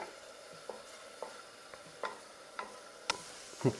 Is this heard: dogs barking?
no